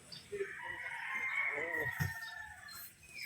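Pure Boston stag roosters at a gamefarm, one crowing in a drawn-out call amid clucks and soft background voices, moderately near.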